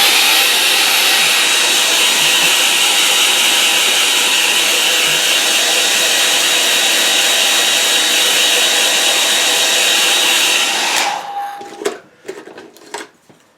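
A hair dryer blows steadily and loudly over a watercolour painting for about eleven seconds, then shuts off, leaving a few faint clicks and handling noises.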